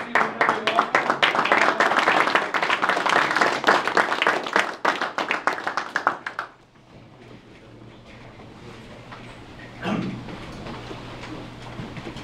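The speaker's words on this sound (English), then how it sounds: "let's give a standing" Audience at a presentation gives a standing ovation, dense loud applause filling the first six seconds before fading out, followed by quieter room noise and a brief sound near the end.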